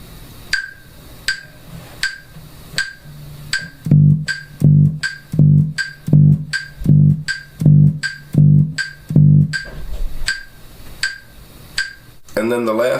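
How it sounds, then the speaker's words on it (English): Electric bass guitar plays a rhythm of alternating eighth rests and eighth notes, eight short plucked notes evenly spaced with silences between them. Clicks sound before and after the notes. "So you're going to have 8 sets of alternating 8th rests and 8th notes here."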